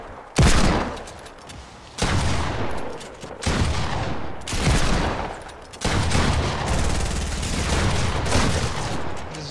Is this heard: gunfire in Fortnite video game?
yes